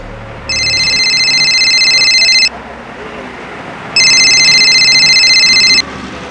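A telephone rings loudly in two long electronic bursts separated by a short pause, with faint background hiss and no talk.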